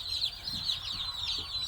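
Newly hatched chicks in a brooder, soft continuous high peeping and chirping with faint low clucks, steady and fairly quiet.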